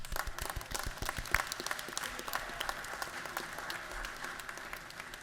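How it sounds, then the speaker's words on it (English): A round of applause in the Georgia House Chamber, steady dense clapping from a large room of legislators, sustained evenly throughout at moderate volume. "I think we do owe you a round of applause."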